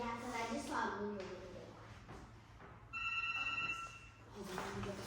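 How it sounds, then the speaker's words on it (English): A telephone rings indoors, its electronic ringing tone rising partway through and sitting under ongoing conversation between people. "Is that the phone?"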